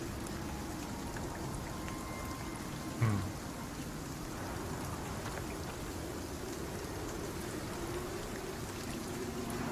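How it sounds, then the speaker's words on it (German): Steady rain in the survival game ICARUS, a constant soft hiss of falling water with one brief louder knock partway through. "Es regnet gerade."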